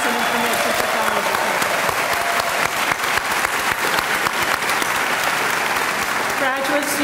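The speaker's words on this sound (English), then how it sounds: "Please join me in a round of applause for the graduates of the Master of Science in Information Technology." Sustained, dense applause from a large audience at a 2011 Heinz College diploma ceremony, honoring Master of Science in Information Technology graduates, loud and steady throughout with a faint voice briefly audible near the end.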